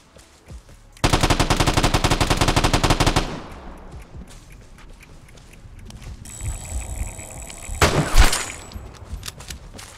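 Gunfire in the Vigor video game, a loud sustained rapid automatic burst of about two seconds, then quieter ambience with a later short noisy blast.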